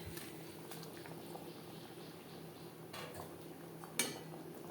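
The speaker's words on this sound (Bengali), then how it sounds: "3-4 মিনিট গ্রেভি বেশ ভালো করে ফুটিয়ে নেওয়ার পর দিয়ে দেব ডিমের অমলেট" Gravy for an omelette curry bubbling in a pot, a faint steady boiling burble with a soft clink of a utensil against the pan near the end, no voices.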